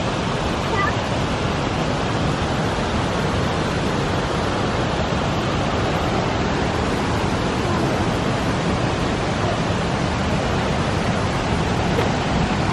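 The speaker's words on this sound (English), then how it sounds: "we're stepping down to the waterfall now" A waterfall roars as a loud, constant broadband rush of falling water close by, steady and unbroken throughout, with some wind noise mixed in.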